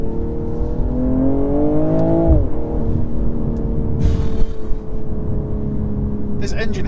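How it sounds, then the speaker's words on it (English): A 2023 BMW M240i engine revs hard and climbs steadily in pitch as the car launches, with a brief drop at a gear change before pulling strongly again, loud and close. "Let's go for a launch. This thing gets up to 60 so fast for what it is."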